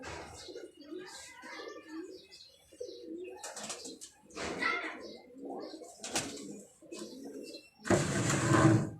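Rampuri pigeons coo softly in bursts while someone talks over them, and a louder flutter of wings or cooing closes the stretch.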